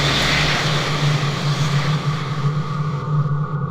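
An F-16 in the Falcon 4.0 flight simulator spooling up for its takeoff roll, a loud steady engine roar with a strong low hum that thins slightly toward the end.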